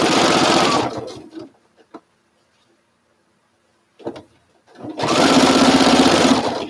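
A sewing machine stitches a quilt strip in two steady, loud bursts of rapid whirring near the start and end, separated by a quiet gap holding a few small clicks and fabric handling.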